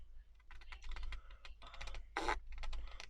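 Serrated scissors snip through paper while junk journal ephemera is trimmed, giving a run of close, crisp crunching cuts with one louder, rougher rasp near the end. No one speaks.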